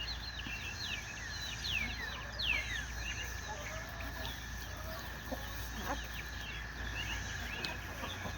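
A mother hen with her chicks in a coop, the chicks peeping in rapid high chirps and the hen clucking now and then over a steady background hum.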